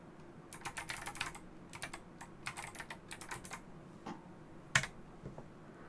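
A shell command typed on a computer keyboard: quiet, quick bursts of key clicks in short runs with small gaps, ending on one louder keystroke, close but faint over a low background hiss.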